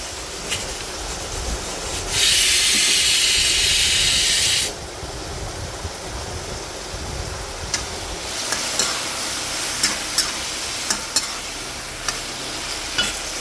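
Ginger and green chili paste frying in a pan for a brinjal, peas and potato curry: a steady close sizzle with scraping stirs, a loud hissing burst early on, then light clinks and taps.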